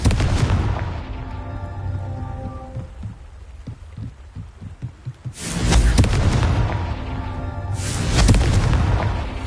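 A Confringo fire spell from the Hogwarts Legacy video game bursts in two loud, roaring blasts, the first about midway and the second near the end, following a quieter stretch of low rumbling and faint thuds.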